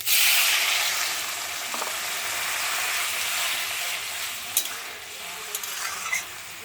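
Curry of potato and papaya bubbling in a pan after water is added, a steady close hiss and simmer with a few light clinks of a utensil near the end.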